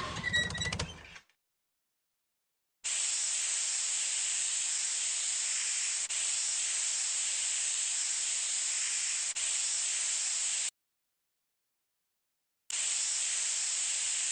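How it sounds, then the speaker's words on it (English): A hose sprays a muddy train engine in a Thomas and Friends video game, a steady, loud hiss of water in two long stretches separated by silence, after a brief burst of other sound at the start. "spray the engine with the hose"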